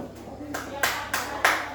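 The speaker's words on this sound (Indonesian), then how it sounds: "Tepuk tangan untuk kelompok 1 dulu" A classroom applauds a student group after their presentation, with bursts of clapping that swell in repeated waves from many hands, starting softly and growing louder and denser, with faint voices underneath.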